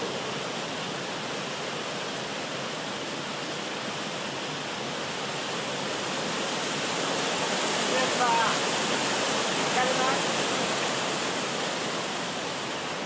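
Loud, steady rushing water fills the scene, a continuous broadband roar of a fast-flowing mountain river on Mt Tsurugi, Japan, swollen by heavy rain, with no pauses.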